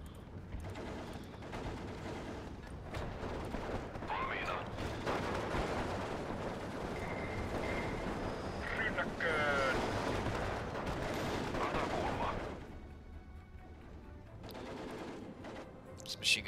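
Machine gun fire in Steel Division II, a World War II strategy game set in Finland, rattling in dense sustained bursts over loud battlefield din, with artillery-like booms mixed throughout and a short drop near the end.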